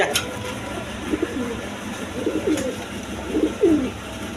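Pigeons at a pigeon market coo in several short throaty bursts, moderately close, over a steady murmur of background noise.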